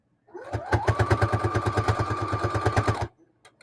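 An electric sewing machine stitches material for keyfobs and lanyards. It runs a quick, evenly spaced burst of stitches for about three seconds over a steady motor whine, then stops.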